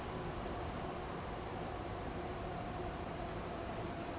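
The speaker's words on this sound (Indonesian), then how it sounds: "Serunya di sini ya kita bisa lihat MRT yang bolak-balik gitu sih" An MRT train in Kuala Lumpur passes as a faint, steady rumbling wash of rail and wheel noise, heard from a distance without any talking.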